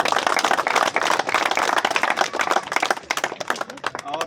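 Audience clapping for an award recipient at a prize ceremony, a loud, close burst of many hands, dense at first and thinning toward the end, with no speech over it.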